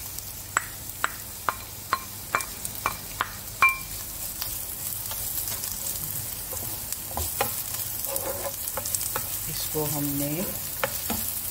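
Finely chopped onion fries in oil in a pan, a steady sizzle running throughout, with sharp knocks and scrapes of a spoon stirring near the start and a few clinks later on; a brief voice speaks quietly over it.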